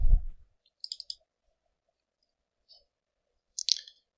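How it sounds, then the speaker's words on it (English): A computer mouse clicks twice in quick succession, small and sharp in an otherwise quiet room, after a soft low thump at the start. A single faint tick follows, and another brief pair of clicks comes near the end. "We'll double click on that here."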